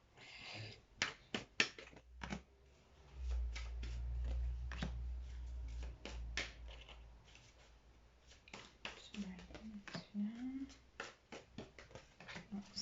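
Oracle cards shuffled by hand for a card reading, a run of quiet, irregular crisp flicks and taps, close and faint, with a voice speaking in places.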